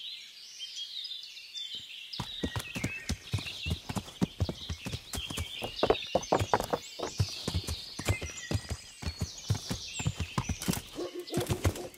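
Hooves of a horse ridden through woods in Kingdom Come: Deliverance, a quick irregular clip-clop that starts after a brief quiet, loud and close, with birds chirping faintly behind and a short snort near the end.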